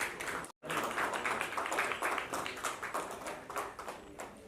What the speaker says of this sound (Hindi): एक बार आप सब स्टैंडिंग ओवेशन और जोरदार तालियों से अनु सर का स्वागत करें।